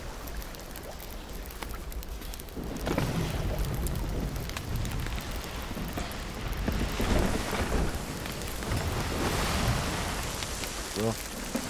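Steady broadband rain hiss falls in the Sea of Thieves pirate game, starting lighter and thickening after a few seconds into a dense, continuous downpour with a brief clicking burst near the end.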